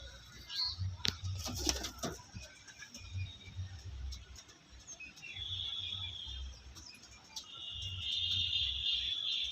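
Pigeons, including bearded male pigeons, are released outdoors under cloudy weather, giving a quick burst of wing flutter followed by faint, soft cooing and light bird sounds over a low background hum.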